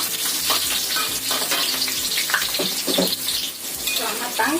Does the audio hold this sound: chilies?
yes